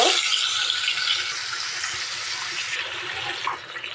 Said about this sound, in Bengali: মাছগুলা আমি কড়া করে ভেজে নিয়েছি দুই সাইডই সুন্দর করে ভেজেছি